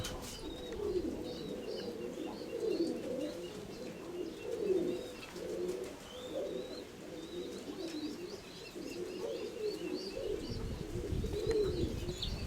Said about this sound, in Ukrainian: в линці вже голуби